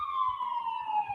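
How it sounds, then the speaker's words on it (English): Emergency sirens pass by outside, a steady wailing tone sliding slowly downward, moderately loud and continuous over a faint background. "There's the sirens going by."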